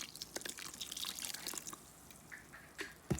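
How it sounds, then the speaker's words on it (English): Water trickles and drips into wet paper pulp in a DIY paper-making mix, with a few soft, uneven splashes and liquid dribbles, fairly quiet and close. "So maybe I'll just add a little more water right now."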